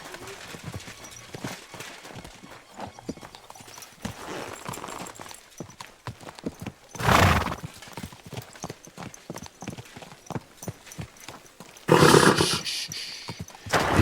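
Rhythmic clip-clop of horse hooves at a riding pace in the video game Kingdom Come: Deliverance 2, with a couple of louder bursts that sound like snorts or whinnies.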